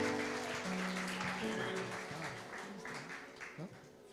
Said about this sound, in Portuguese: vamos aplaudir essa família abençoada